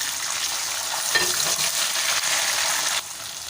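Steady sizzling and crackling of sliced tomatoes frying in a hot pan, with a brief clink partway through, continuous with no talking.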